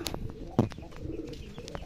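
A domestic pigeon gives a single soft low coo amid quiet outdoor ambience on a farm where pigeons and chickens are kept, faint and brief.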